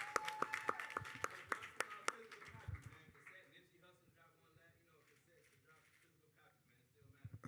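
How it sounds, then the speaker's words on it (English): Scattered audience clapping rings out in a hip-hop interview setting, a run of sharp distinct claps that quickly thins and fades, with faint voices and room murmur continuing beneath. "So y'all give a round of applause for New Face."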